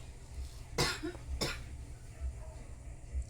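Two sharp coughs from a pregnant woman, close and fairly loud, about half a second apart, with a low steady background hum and no speech.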